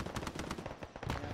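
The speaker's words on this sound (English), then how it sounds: "keep getting rounds out, David." Rapid automatic gunfire from the military video game Arma 3, a dense run of bursts close and loud, filling the short moment without talk.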